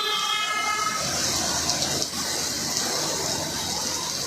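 Heavy rain driven by strong wind in Vadodara, a loud, steady rushing wash of water that holds constant throughout with no voices.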